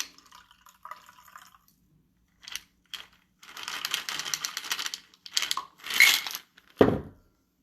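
A mixed drink poured out of a cocktail shaker, liquid splashing into a glass in several short bursts with clinks from the shaker and ice, ending in a louder thud, close by.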